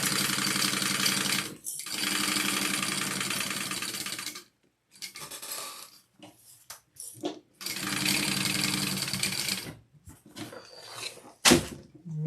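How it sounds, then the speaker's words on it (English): A sewing machine stitches a handle through both fabric layers of a sling in two long, loud buzzing runs. Quieter pauses between them hold handling clicks and rustles, and a sharp thud comes near the end. "because I am adding my handle with this machine, I'm going to sew through both layers"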